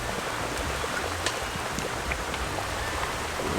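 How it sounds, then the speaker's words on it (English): Steady rain patters and hisses close by outdoors in Jamaica, with scattered individual drops ticking on a surface throughout. "Alright guys, it's raining right now."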